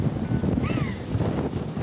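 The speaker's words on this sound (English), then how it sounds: "It's really, really windy." Strong coastal wind at Cape Palliser buffets the microphone with a constant roaring rumble, and a brief thin whistle rises partway through.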